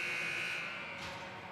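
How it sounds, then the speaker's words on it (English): A hockey rink horn sounds at the end of a period, a steady, harsh electronic buzz that holds continuously for the whole moment, moderately loud over faint arena ambience. "There's the buzzer."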